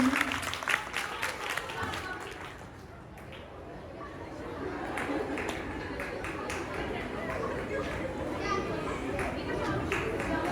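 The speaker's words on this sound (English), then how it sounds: "Wow, clapping." Children clap together at a play therapy seminar, a scattered burst of hand claps amid lively kids' chatter and adult voices, with the room noise staying busy throughout.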